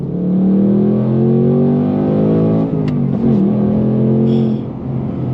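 A loud V8 engine of a 2025 Ford Mustang Dark Horse revs and roars continuously, pitch rising steadily then dipping briefly before climbing again.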